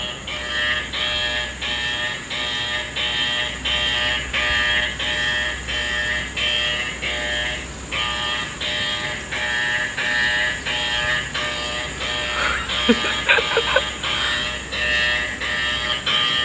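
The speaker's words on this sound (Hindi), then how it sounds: "अलार्म बज गया" A steady electronic alarm rings in a rapid repeating pulse, continuous and fairly loud, with a brief rustling noise near the end.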